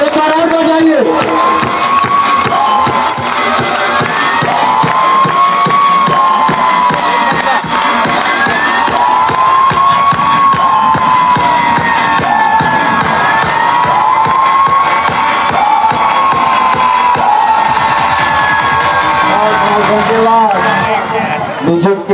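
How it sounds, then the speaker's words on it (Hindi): A crowd at a village kabaddi tournament near Arang, Raipur, claps and cheers through a loud outdoor PA, with an announcer talking and children shouting over steady applause. "जोरदार ताली बजाओ, एक बार और बजाइए।"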